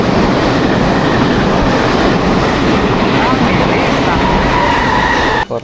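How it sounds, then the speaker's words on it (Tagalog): A train rolls into a station with a loud, dense roar of wheels and rail noise that holds steady throughout, a faint squeal rising briefly near the end before a sudden drop. "Ayan ang tren."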